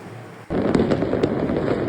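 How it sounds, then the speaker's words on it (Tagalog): New Year 2026 fireworks in Italy: after a quiet start, a sudden dense wall of crackling and popping bursts in, sustained and loud, with sharp crackles standing out at intervals. "Panoorin natin ang Italy fireworks"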